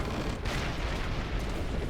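A powerful cannon shot in a Lord of the Rings video game, defending Minas Tirith: a deep, continuous roaring boom with heavy low-end rumble rolling on without pause.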